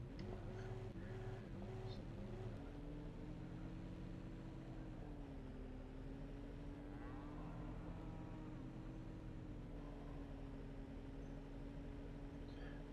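A farm vehicle's engine drones steadily while reversing in the Cattle & Crops farming game, a continuous close hum with small shifts in pitch and no voices.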